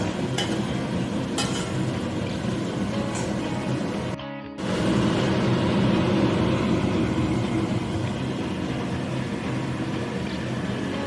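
Chitol fish kalia fries in oil with a loud, steady sizzle as it is stirred. A brief dip in the sizzle near the middle is followed by the frying hiss returning strongly.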